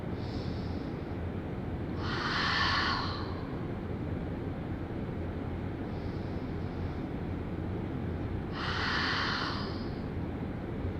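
Deep breathing during a yoga session for outer hip strength: two long, slow breath cycles, each a soft airy inhale and exhale, heard close over a steady background hiss without talk.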